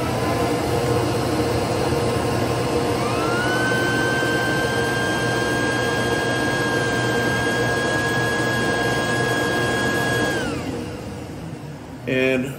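A shop vacuum serving as a bucket dust collector for a router station switches on and runs with a loud steady roar and a rising whine, then spins down near the end, with a brief clatter as it stops.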